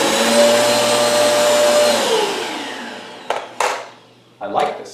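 An Eureka Airspeed One vacuum cleaner runs with a steady loud whine and motor drone that winds down midway, followed by a few short bumps and bursts of noise near the end.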